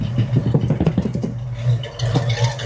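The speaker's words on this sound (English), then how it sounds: "Got that Mustang 289 ASMR." A 1968 Ford Mustang with a 289 V8 runs rough nearby, a loud, uneven low rumble with a rapid rhythmic lope and a little clatter, and no voices over it.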